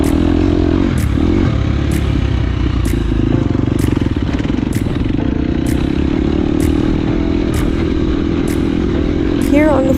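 An enduro dirt bike ridden past a corner during a sprint enduro race, its engine a steady, loud, rough drone that holds for the whole stretch, with faint regular ticking above it.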